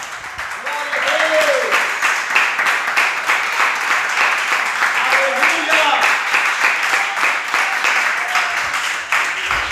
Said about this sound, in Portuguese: Vamos desocupar as nossas mãos e louvar ao Senhor com palmas de vitória